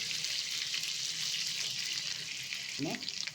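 Onions sizzle and crackle steadily in about four spoons of hot oil in a pan, the start of a prawn fry, a close, even hiss with a faint stir near the end.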